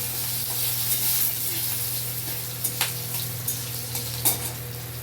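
Green chillies and bay leaves tempering in hot mustard oil, a steady sizzle with a few sharp spatters and light stirring clicks near the pan, no voices.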